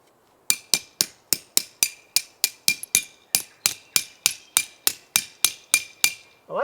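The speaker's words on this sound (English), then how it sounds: "I like this little hammer." A small hammer drives tent pegs at a winter campsite, about twenty sharp, evenly spaced metallic strikes close by, each ringing briefly before the next, with no talk over them.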